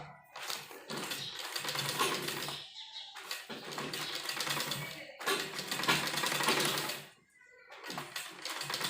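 A sewing machine stitches a looped sleeve design in several quick runs of rapid mechanical chatter, each burst stopping briefly before starting again, close and fairly quiet.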